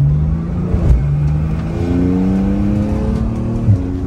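A supercar accelerates hard, its engine note climbing in a loud, close, rising roar through the gears with a short dip between pulls; no one speaks.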